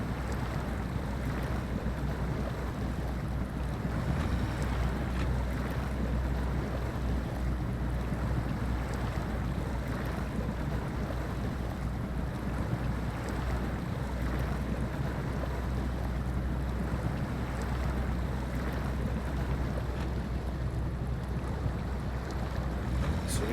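An off-road vehicle pushes steadily through a mud pit and tree branches, its engine a constant low drone with rustling and scraping layered on top. The sound is loud, close and continuous, and no one speaks.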